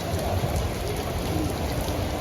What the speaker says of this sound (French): j'ai pris de la pluie